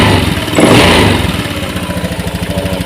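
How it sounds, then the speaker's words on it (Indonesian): A motorcycle with a stuttering engine and a dirty air filter revs loudly up close as the throttle is pulled, then falls back into a rough, pulsing idle. "Nih, saya menarik gas."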